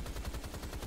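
Rapid automatic rifle fire from the Rise of the Triad shooter game, a steady burst of about nine evenly spaced shots, loud and close with no talking.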